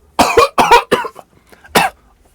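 Sudden bursts of coughing from one person, close and loud: two quick pairs of harsh coughs, a shorter one, then a final cough after a brief pause.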